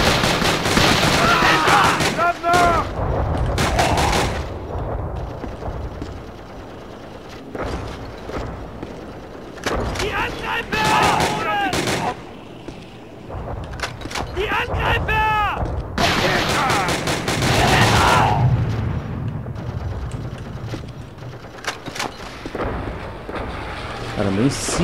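Bursts of rapid gunfire in Call of Duty: Roads to Victory on PSP crackle in loud volleys separated by short pauses, with a voice talking in between the shots.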